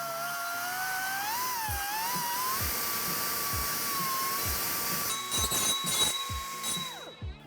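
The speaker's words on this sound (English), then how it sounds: "we're going to use a deburring tool to clean that up so that it'll fit properly" A high-pitched pneumatic deburring tool whines steadily while smoothing the cut edges of a steel exhaust pipe during a single-exhaust install on a Ford F-150, with small scraping ticks and pitch dips as it bites, ending abruptly near the end.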